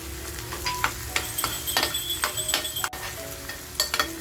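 Onion and fresh coriander frying in oil in a pan for a cashew masala, a close, steady sizzle broken by repeated stirring scrapes and light clinks of a spoon, with no voices.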